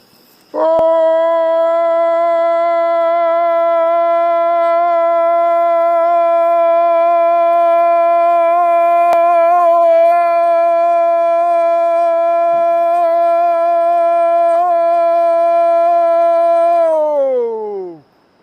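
A person imitates a wolf howl with one long, loud, steady tone that rises quickly, holds for about seventeen seconds and falls away at the end, with nothing else heard.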